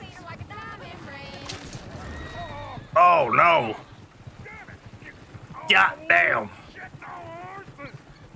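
Horses in the Red Dead Redemption 2 video game, heard under steady talk from a player, with two short loud bursts of hoof and movement noise near the middle and later in the clip.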